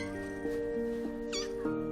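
Young kittens meow repeatedly in thin, high, tonal cries, several calls overlapping close by against a steady background hum.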